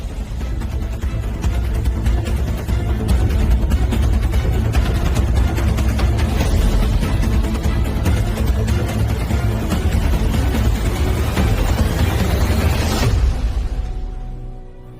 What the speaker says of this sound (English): This engine, a high bypass turbofan jet engine, this is the engine that is on all military tankers and all commercial carriers